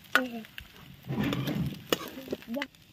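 A spoon scrapes and stirs egg curry in a metal kadhai over a home stove, with quiet scraping strokes and a soft sizzle between short bits of nearby speech.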